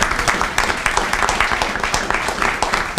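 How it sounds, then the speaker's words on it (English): Steady crowd applause fills the space for a few seconds at a Harris Teeter store opening in Bowie Marketplace, dense overlapping claps with no pauses. "Can we give them a round of applause?"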